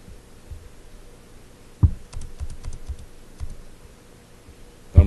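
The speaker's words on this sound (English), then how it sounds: "again I'll type their numbers in." Numbers are typed on a computer keyboard: a few scattered sharp key clicks and taps, irregular and close, over a faint low hum with no talking.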